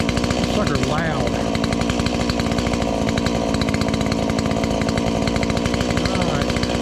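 A Stihl MS170 chainsaw with a modified muffler cuts through a blown-down hemlock. It runs loud and close with a continuous, raspy, buzzing roar that barely varies in pitch, and there is no talk.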